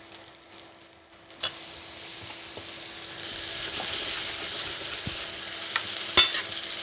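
Butter goes into a pan of browned gnocchi, bringing a sizzle that gradually builds and spreads, broken by a few sharp utensil taps and clicks, with no talking.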